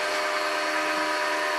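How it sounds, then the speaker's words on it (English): A bench grinder grinds the heel of a bowl gouge with a steady, close, high-pitched whirring hiss that holds unbroken for the short moment. "I kind of grind the heel out of there a little bit"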